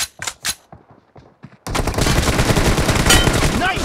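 Dense, continuous automatic gunfire in a video game team deathmatch, loud and sustained after a few scattered sharp shots and brief voice-like bursts at the start.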